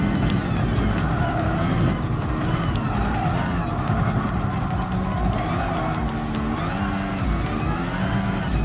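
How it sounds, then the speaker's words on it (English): Engines roar and tires squeal in a Formula One race in Gran Turismo Sport, with a loud, continuous rush of racing cars and a car passing by close, alone without talk. "There's one Formula One car passed by it."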